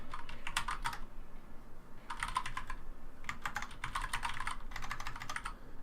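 Typing on a computer keyboard, four separate bursts of quick, light key clicks with short pauses between them, fairly quiet and close.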